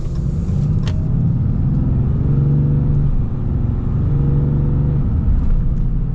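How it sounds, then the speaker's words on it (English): A 2021 Ram 3500 Dually with a Cummins diesel and automatic transmission accelerates at full throttle, heard from inside as a loud, deep engine drone that rises through the gears, with shift breaks along the way. "But let's get our full-blown acceleration here and see how she goes."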